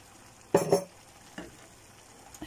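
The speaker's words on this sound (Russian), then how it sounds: "Сейчас все это перемешиваем." Cabbage mixed with ketchup is stirred in a pan: two quick spoon scrapes and clanks close up, then a few fainter taps over a quiet background without speech.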